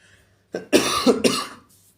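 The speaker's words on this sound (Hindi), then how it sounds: "मुझे बहुत खांसी आ रही है" A single close, harsh cough with a short rough burst, heard alone in a quiet room.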